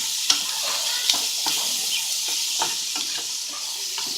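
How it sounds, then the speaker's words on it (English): Mushrooms and vegetables browning in a pan for a veggie pesto pasta, a continuous bright sizzle punctuated by light spatula scrapes and taps at irregular intervals. "So the mushrooms are browning"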